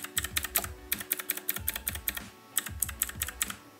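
Quick, clicky keystrokes on an E-Element Mechanical Eagle Z-88 RGB mechanical keyboard come in uneven bursts and short pauses, close and fairly soft, with no voices.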